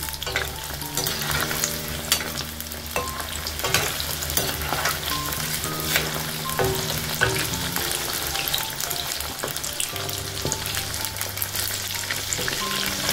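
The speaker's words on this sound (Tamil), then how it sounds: "பாருங்கள் இப்போ இந்த சிக்கனை வந்து நம்ம திருப்பி விட்டுக்கலாம்" Chilli chicken fries loudly in a pan as it is turned, with a dense, continuous sizzle broken by scraping and clattering from the spatula.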